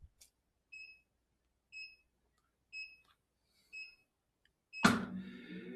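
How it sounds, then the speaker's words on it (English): A tanning bed timer gives evenly spaced, clear electronic beeps about once a second, heard alone in a quiet room. A louder whooshing burst starts right after the last beep. "It'll give you 5 beeps."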